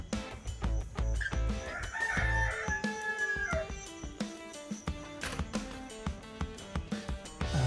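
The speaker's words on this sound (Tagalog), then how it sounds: "Tilaok na naman kung narinig nyo." A rooster crows at five in the morning over steady backing music, its call standing out clearly and fairly loud in the middle of the clip.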